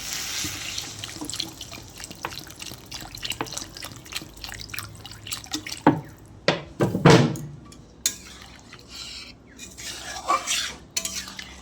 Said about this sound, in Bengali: এরপর আমি এর মধ্যে জল যোগ করে দেব।